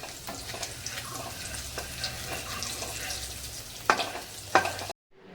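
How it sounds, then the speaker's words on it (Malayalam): Chillies frying in hot oil in a home kitchen, stirred with a utensil: a steady close sizzle with scraping stir strokes and a couple of sharper clatters near the end, then an abrupt cut to silence. "എണ്ണ ചൂടായി വന്നപ്പോൾ അമ്മച്ചി ആദ്യം മുളകിട്ട് പിന്നെ നമ്മളായിട്ട് ഇളക്കി കൊടുത്തത്"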